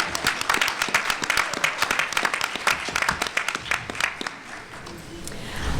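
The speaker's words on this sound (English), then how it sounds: "Give yourselves a round of applause." An audience at a gun-control and women's violence event applauds, a dense burst of many hands clapping that thins and fades after a few seconds.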